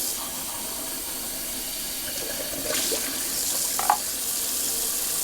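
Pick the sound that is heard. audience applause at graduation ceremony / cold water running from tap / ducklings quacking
cold water running from tap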